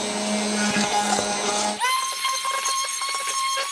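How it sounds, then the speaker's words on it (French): An immersion blender whirs loudly at close range, a steady high motor whine whose pitch rises and steadies about halfway through as it runs in a kitchen. "Je vais aller chercher mon mixeur plongeant."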